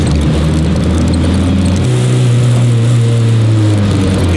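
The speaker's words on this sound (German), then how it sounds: "ich gehe jetzt aus dem Gas in der Kurve" A car engine in a corner as the driver comes off the throttle, a steady close drone with low harmonics that settle and drop in pitch partway through, with no one speaking.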